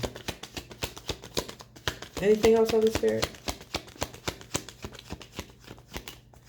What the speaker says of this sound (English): when I was shuffling before this card came out